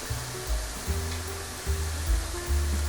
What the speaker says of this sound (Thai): จะใส่ซอสผัดกะเพราของเราลงไปเลยนะครับ